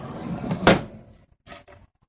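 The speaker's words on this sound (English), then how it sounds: "And yes, there's a drawer for your silverware." A silverware drawer in an Airstream Sport 22 travel trailer slides and bumps shut with one firm knock near the middle, followed by a couple of softer rattling thuds from the cabinetry, close and fairly quiet.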